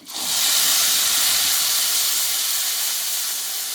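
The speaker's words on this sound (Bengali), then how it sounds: "এইবার এই মশলাটা যে পেস্ট করে নিয়েছিলাম আমি দিয়ে দেবো" Spice paste for a soybean curry dropped into hot oil with panch phoron, bursting into a loud continuous sizzling hiss that stays steady and close.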